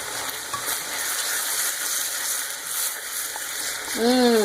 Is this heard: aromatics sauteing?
yes